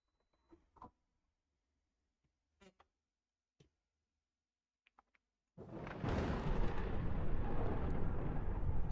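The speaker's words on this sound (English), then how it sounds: "Thunderstorm, thunderstorm." A thunderstorm breaks in abruptly after a few faint scattered ticks, becoming a loud, steady roar of rain and rumbling that continues to the end.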